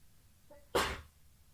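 A single sharp human sneeze, brief and close, preceded by a faint voiced intake, in a quiet room during a meditation talk.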